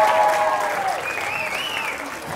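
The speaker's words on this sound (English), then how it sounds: "Round of applause, please." Audience applause at a live event, a steady wash of crowd clapping throughout with some tonal sound laid over it.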